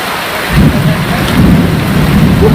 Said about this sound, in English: We could see a storm coming